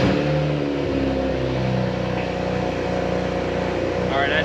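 A BMW 135i with aftermarket work rumbles loudly as it pulls out, its deep, steady engine drone filling the space with a slight rise in revs and no pauses.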